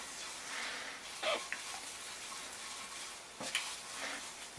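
Red curry paste frying in a pan for Thai red curry chicken pizza, a soft continuous sizzle with a few scraping stir strokes, fairly quiet and close, no talk.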